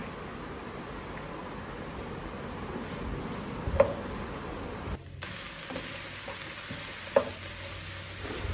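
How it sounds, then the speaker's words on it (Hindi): Onions sauté in frying oil left over from frying okra, giving a steady close hiss of sizzling with a couple of sharp clicks, and no voices over it. "जिस ऑयल में मैंने भिंडियाँ फ्राई की थी उसी ऑयल में अब मैं प्याज डाल रहा हूँ"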